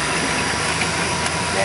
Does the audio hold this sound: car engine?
yes